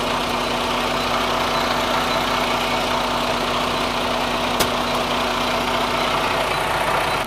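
A heavy-duty truck engine idles during air conditioning service, a loud, constant rumbling drone with a steady low hum, uninterrupted apart from one sharp click partway through.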